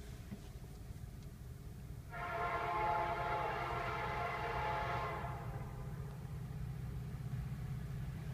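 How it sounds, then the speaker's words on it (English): A westbound CSX train heading toward Buffalo rumbles steadily past and sounds a loud, sustained horn for about three seconds before rolling on. "Westbound CSX towards Buffalo."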